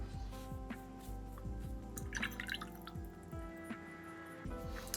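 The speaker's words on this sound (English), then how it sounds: "now I'm going to drop water into it" Water drops falling into tempera paint, a quick series of small wet plinks and squishy drips spread over a few seconds at close range, with no talking.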